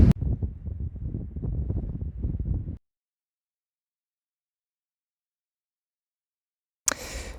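Strong wind on a sunny bike trip in Spain buffets the microphone in a loud, rumbling roar for a few seconds, then cuts to silence before a brief gusty burst returns at the end.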